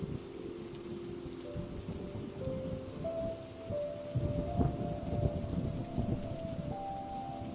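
Steady rain falls as a continuous hiss with a low rumble of distant thunder rolling beneath it, calm and even throughout with no talking.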